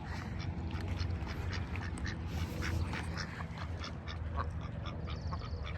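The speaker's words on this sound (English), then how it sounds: "Oh look, there's a duck on a nest here." A duck sitting on a nest of three eggs beside farm crops quacks in repeated calls, close by, over a dense, steady outdoor background.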